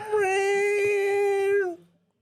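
A person imitates a cat with one long, steady, loud meow that is nasal and held for nearly two seconds before it tails off.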